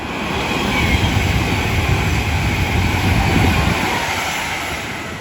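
Avanti West Coast Class 390 unit 390 008 passing at speed through Milton Keynes Central station, a loud sustained rushing rumble with rapid wheel clatter that swells and then eases slightly as it goes by.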